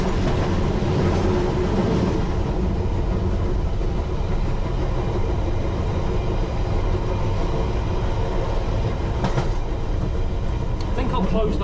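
A London Underground Piccadilly line train runs noisily near Heathrow, with a continuous loud rumble and rattle of wheels and carriage, a faint clickety-clack and a brief louder burst near the end.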